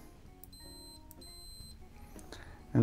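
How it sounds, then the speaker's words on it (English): A continuity meter beeps while a vintage Casio F-100 digital watch is tested, several short high tones in quick succession, close and clear, ending with a soft bump. "This is the continuity meter."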